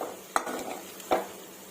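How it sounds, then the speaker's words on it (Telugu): A spoon stirs and mixes curry in a pan: two distinct scraping clinks about a second apart over a faint low sizzle, close and fairly quiet, no voices. "ఇది బాగంతా కలిపేసుకుంటానండి"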